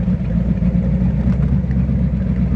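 An old race boat with over 500 horsepower runs flat out, its engine a loud, steady, close drone that holds without a break.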